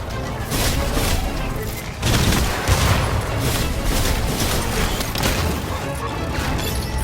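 Iron Man's Unibeam chest blast firing in the Iron Man VR video game: a loud, sustained roaring discharge layered with crashing impacts and booms, with a heavier surge about two seconds in.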